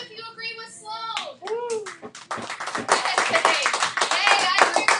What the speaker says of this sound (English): Clap if you agree with Sloan.